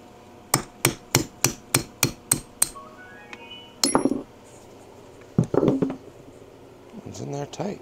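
Hammer striking a wrench to drive out a transmission pin on an Ironhead Harley Sportster XLCH, about eight sharp metallic clinks in a quick steady rhythm, followed by scattered clanks and handling noises in a workshop.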